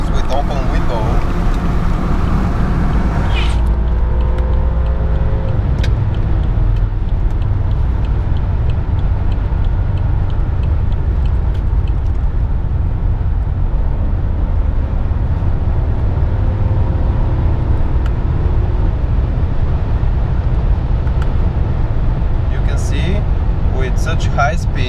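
A 2003 BMW 745i E65 V8 pulls hard under acceleration, heard from inside with a window open, as a loud steady engine roar fills the whole stretch with wind and road noise.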